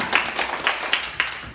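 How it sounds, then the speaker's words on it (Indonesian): Children in a school classroom clap together in a short burst of applause, the claps bunched into a loose rhythm of several distinct beats, moderately close. "tepuk tangan dulu"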